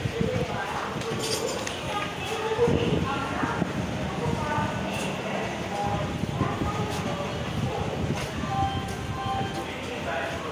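Passenger train made up of LHB coaches running out of Vijayawada toward Hyderabad, a steady rumble and rattle of the carriages throughout, with people talking over it.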